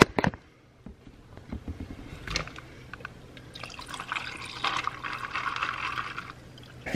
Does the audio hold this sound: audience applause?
no